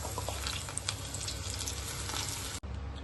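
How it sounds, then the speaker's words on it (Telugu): Sweet corn kernels deep frying in hot oil for restaurant-style crispy corn, a dense steady sizzle and crackle running close and loud throughout, with a brief dip near the end. "స్టవ్ ఆన్ చేసి డీప్ ఫ్రై సరిపడిన ఆయిల్ వేసి కలిపి పెట్టుకున్న స్వీట్ కార్న్ అనేది ఫ్రై చేసుకోవాలి"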